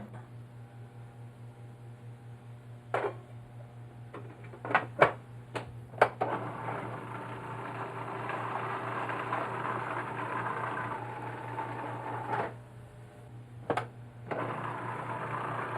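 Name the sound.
food processor blending a mousse with egg white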